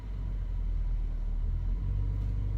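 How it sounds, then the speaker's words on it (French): A petrol car's engine is given gentle throttle as the clutch is eased out during a hill start with the handbrake held. It is a steady, close, low rumble that deepens slightly partway through. "j'accélère un peu, on l'entend, je relâche doucement l'embrayage."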